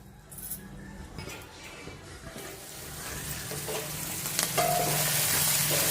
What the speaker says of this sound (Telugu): ఇది దగ్గర ఉడుకుతుంది